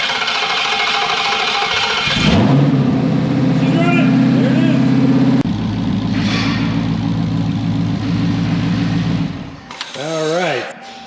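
A widebody Dodge Hellcat Redeye's engine cranks and catches about two seconds in, then holds a loud, steady idle for several seconds before shutting off, followed by a brief rising and falling whine near the end.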